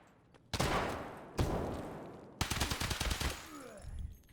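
UMP45 submachine gun firing in the game Escape From Tarkov: two quick bursts followed by a longer rapid string of shots, close and loud, with no speech.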